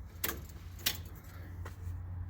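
Keys jangle in the ignition of a 1971 Ford Maverick in two or three brief metallic clinks close by, over a low steady hum.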